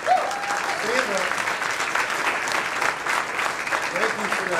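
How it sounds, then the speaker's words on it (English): Sustained applause from an audience at an airport concourse ribbon-cutting ceremony, steady dense clapping throughout with some cheering voices mixed in. "Thank you for that applause."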